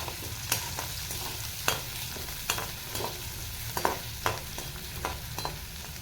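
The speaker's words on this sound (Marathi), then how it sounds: "आणि आता कढईमध्ये कांदा टाकून घेतलेला आहे." Onion sizzles in a kadai while a spoon stirs it in regular scraping strokes, a soft steady fry running underneath with no voices.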